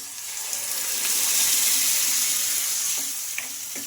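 Freshly ground chutney goes into a hot frying pan with asafoetida, giving a loud, even sizzle that swells and then eases, with a few faint clinks of a spoon near the end.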